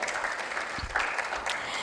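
Audience applause at a regional conference on women, peace and security, a brief burst of clapping from a crowd in a hall.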